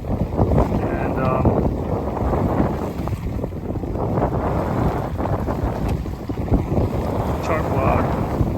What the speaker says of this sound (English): So the anemometer, wind's blowing 16 miles an hour